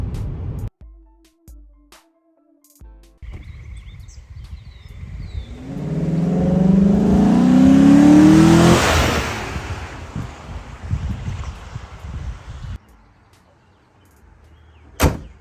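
A 2015 Chevrolet Silverado 1500 engine with a Corsa closed-box cold air intake rises from idle into a loud, sustained rev, then falls away, followed by quieter mechanical clunks and a sharp knock at the end.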